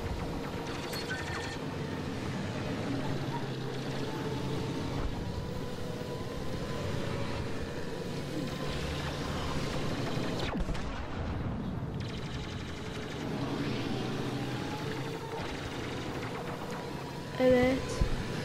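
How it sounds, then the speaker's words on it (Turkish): Rocket launch and missile fire in the Star Wars Battlefront II video game, dense rumbling battle noise with engine drone throughout, a sharp burst near the end, and talk mixed in. "Ben bir roket atacağım."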